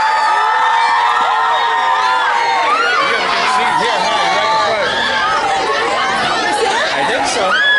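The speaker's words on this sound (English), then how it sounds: "let's have a big cheer for Santa Claus" An outdoor crowd at a town Christmas tree lighting in East Hartford cheers and shouts for Santa Claus, a loud wash of many voices including children's high calls, with chatter mixed in.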